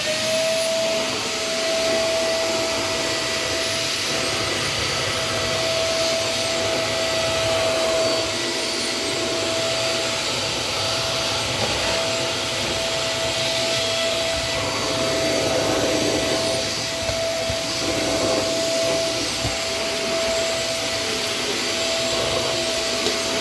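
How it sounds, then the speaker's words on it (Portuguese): An Electrolux STK15 stick vacuum cleaner picking up cat hair from a corner, a steady, loud motor whir with a sustained whining tone and shifting airflow rush as the head moves, running continuously with no talking. "Vou aspirar esses pelos de gato que estão aqui no cantinho."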